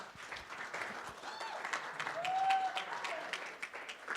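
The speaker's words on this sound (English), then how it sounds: "How about a round of applause for..." Audience applause at a network marketing event, sustained clapping from a crowd building slightly then holding steady, with faint whoops mixed in.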